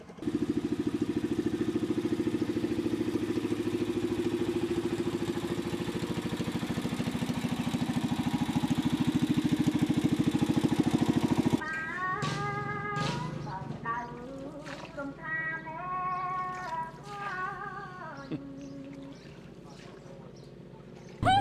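A boat engine drones steadily for about ten seconds near Siem Reap, Cambodia, then cuts out, leaving talking voices and scattered background sounds.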